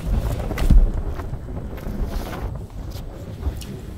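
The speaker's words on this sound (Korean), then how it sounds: "칼바람이 너무 세서 걷기가 불편하고, 바람소리도 날카롭고 요란하여" Strong, biting winter wind sweeping a snowy ridge of Sobaeksan mountain near Birobong peak, a steady close roar with louder gusts buffeting the microphone, heard alone without voices.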